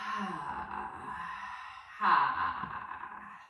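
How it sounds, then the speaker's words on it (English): A yoga breath exercise with a long, breathy sigh followed by a stronger, louder open-mouthed exhale, close and clear, with no other sound. "I like those ha breaths because they really get out any air in the body that doesn't want to be there anymore."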